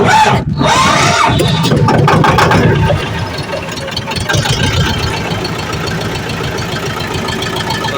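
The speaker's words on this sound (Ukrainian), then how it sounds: "Ну що, заводимо трактора." A T-25 tractor's diesel engine starts with a rough clatter and settles into a steady knocking idle, close and loud, with a brief burst of noise at the start.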